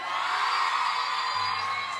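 Crowd at a contest show at Costa Azul in Granada whooping and cheering loudly, a dense steady wash of shouts and applause with faint hum underneath.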